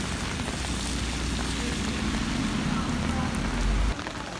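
Steady rain falling in Dubai, a dense, even hiss of drops hitting the ground close by for the whole stretch, with a low rumble that swells briefly and then cuts off near the end.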